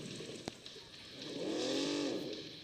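A Dacia car in a video game revs up and accelerates, a faint engine note swelling in the middle and fading, with a couple of sharp clicks early on.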